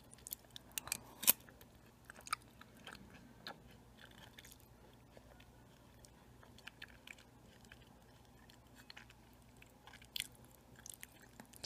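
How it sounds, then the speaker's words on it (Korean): Homemade tuna porridge is eaten close to the microphone in an ASMR style, with soft spoon clinks, wet smacking and occasional crisp bites scattered over a quiet background, no talking. "오늘은 죽 먹방 ASMR 해볼게요."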